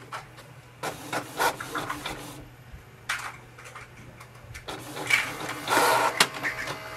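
A Canon TS5050 all-in-one printer whirs and clatters in bursts while making a copy, with mechanical rubbing, ticking paper-feed noises and short pauses between passes, close by and without speech.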